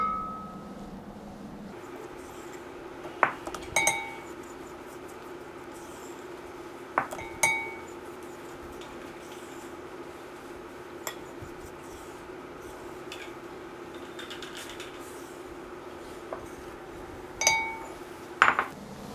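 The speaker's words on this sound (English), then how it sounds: "So I'm just going to mix this up once with my spatula so it doesn't spill out." A spatula folds eggless chocolate cake batter of beaten butter, condensed milk and dry ingredients in a bowl, giving a few sparse clinks against the bowl over a steady low background hum.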